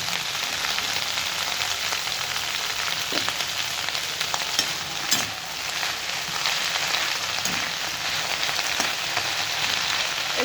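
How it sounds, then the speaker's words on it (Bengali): Cauliflower leaves sizzle steadily in hot oil, a dense, even crackle with occasional sharper pops, close and continuous throughout with no talking. "এবার তেলের মধ্যেই ফুলকপির পাতাগুলোকে দিয়ে দেবো।"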